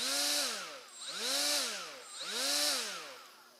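A Milwaukee M12 FUEL cordless right angle die grinder runs up to 30,000 RPM three times in a row, each burst a smooth rising and falling whine with a high airy hiss, close and moderately loud.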